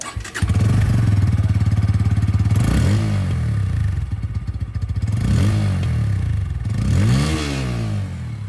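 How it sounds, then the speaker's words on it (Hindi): A Bajaj Pulsar N150 or Apache 160 2V motorcycle idles with a throbbing exhaust, then revs up sharply several times, each rev rising and falling back to a rumbling idle. "दोनों ही बाइक की जो एग्जॉस्ट साउंड है सबसे पहले मैं आप लोगों को वो सुना दूँ"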